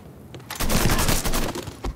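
AK-47 automatic gunfire in the Mafia 3 video game, a loud sustained burst of rapid shots lasting over a second after a quiet start, with a few trailing shots at the end.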